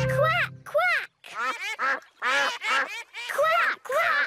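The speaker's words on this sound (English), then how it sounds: "Here are the baby ducklings." Cartoon ducklings and a mother duck in a park give a run of bright, repeated quacks in short bursts, close and clear, with brief pauses between calls and a voice mixed in.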